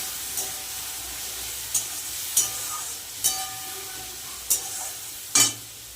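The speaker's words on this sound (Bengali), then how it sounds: "সামান্য পরিমাণে জল দিয়ে দেবো মশলাটা কষানোর জন্য" A spice paste sautés with a little added water in a pan, giving a steady hissing sizzle punctuated by about six sharp spoon scrapes at irregular intervals.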